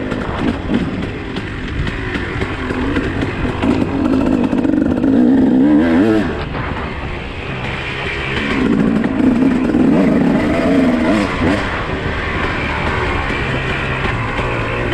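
A dirt bike's engine roars continuously at close range while ridden, rising and falling through repeated revs and accelerations with a rough, clattering edge, no talk heard.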